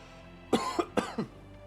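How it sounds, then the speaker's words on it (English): A person with a cold coughs four times in quick succession, two pairs of sharp, close bursts with brief gaps, over a quiet background. "if I'm coughing, that's why"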